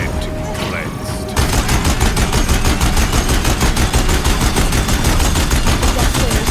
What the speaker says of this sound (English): Deathbringers keep firing